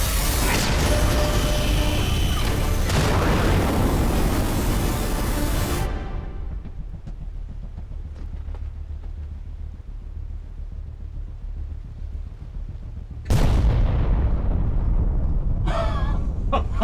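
A loud, broadband blast of cannon or artillery fire in a sci-fi film rolls into a long, dull rumble that fades, then a second heavy boom hits near the end.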